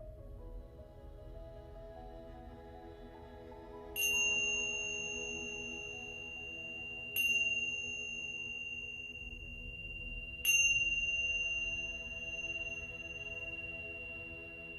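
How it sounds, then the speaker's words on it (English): A meditation bell rings three times at spaced intervals, each clear metallic strike leaving a long sustained ring above a soft, low ambient drone. "In just a moment, you'll hear a bell ring 3 times."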